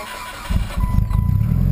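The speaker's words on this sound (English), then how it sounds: "Just a cold start, idle." A red Mitsubishi Lancer Evo cold-starts after sitting overnight: a short crank catches into a loud, low, rumbling idle that settles into a steady throb, heard close by.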